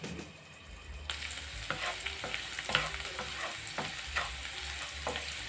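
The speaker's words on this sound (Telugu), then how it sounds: "ఒక మీడియం సైజ్ ఆనియన్ వేసుకొని దాన్ని గోల్డెన్ బ్రౌన్ వచ్చేంత వరకు ఫ్లేమ్ లో టు మీడియంలో పెట్టి ఒక 2 మినిట్స్ మగ్గనిద్దాం." A medium-sized onion frying in a pan over low to medium heat until golden brown, a soft steady sizzle with repeated scraping stirs of a spatula, close and fairly quiet, no voices.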